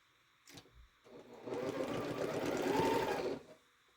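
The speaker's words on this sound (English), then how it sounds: "now I'm just going to sew all 3 rows together" A sewing machine joins three quilt rows together. After a brief stuttering start it runs in one steady, close, continuous burst of about two seconds, then stops, with no talking.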